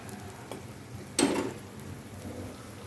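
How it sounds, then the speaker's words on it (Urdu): Onions fry in ghee over medium flame for a stuffed karela dish, giving a soft, steady crackling hiss with one brief louder sizzle flare in the middle, quiet and close. "پیازوں کو آپ نے فرائی کرنا ہے"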